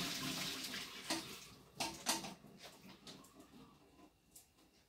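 Cooked pasta drained of its water, a soft splashing pour with a few gurgling surges that tails off and fades, faint and heard alone.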